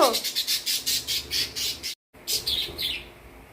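A caged pet bird squawks and calls in a rapid, regular series of loud, harsh bursts close by, breaking off for a moment before resuming with a few more calls.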